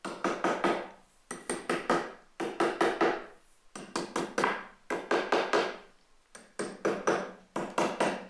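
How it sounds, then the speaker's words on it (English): Quick groups of sharp taps marking drilling spots, about four or five strikes each, repeat in regular bursts with short pauses, crisp and close by. "Tap to mark where to drill."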